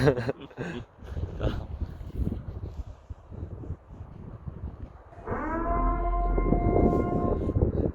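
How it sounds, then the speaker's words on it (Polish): A siren in the mountains starts up midway and holds a steady, rising wail with layered harmonics, preceded by rustling and movement noise. "Słyszysz tą syrenę? To tutaj wyje."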